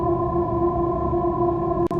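Airy synth pad played dry with no effects, a steady sustained chord holding evenly for about two seconds before a brief cut at the end.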